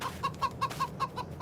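Chickens in a Farming Simulator 22 coop cluck in a steady run of short, evenly spaced calls, about one every fifth of a second, each soft and clear over a faint low background hum.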